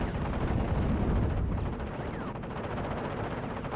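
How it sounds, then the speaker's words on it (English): Heavy rolling gunfire and airstrike blasts in a strategy video game, dense overlapping shots and booms forming a continuous loud battle din without talk. "More and more airstrikes coming in."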